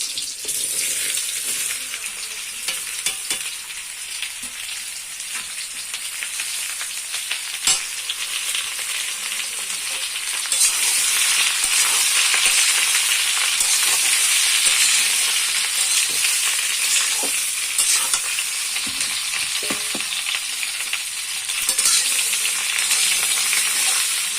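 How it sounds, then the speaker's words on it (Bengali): Cut mango pieces fry in oil with panch phoron in a wok for pickle, a loud continuous sizzle and crackle that grows a little denser partway through, with no talking. "এই যে আম দেখো সব কেটে নিয়েছি, দিয়ে দিলাম কড়াইতে।"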